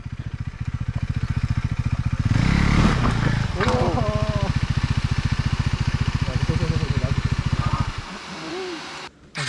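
A Honda CRF rally motorcycle's engine runs with a steady, rapid thumping pulse. It holds close and loud under excited voices and laughter before the engine drops off near the end.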